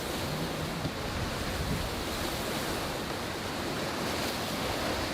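Ocean waves wash steadily around an Outremer 55 sailing catamaran under sail, with a constant broad rush of surf and wind noise that never lets up.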